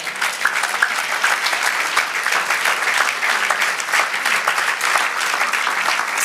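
A church congregation applauds during a sermon with a loud, continuous burst of rapid clapping, dense and even from start to finish.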